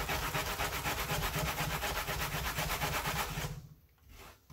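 Grated ginger and raw peanuts are stirred in a pot, giving a continuous gritty scraping and rubbing with a rhythmic pulse. It is loud and close, then drops away near the end, with no talking.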